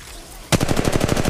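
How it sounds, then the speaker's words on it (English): Rapid automatic gunfire in the mobile battle royale Apex Legends Mobile begins abruptly after a brief quiet lull, a loud sustained burst of evenly spaced shots close up, with no talk over it. "The enemies are shooting at me."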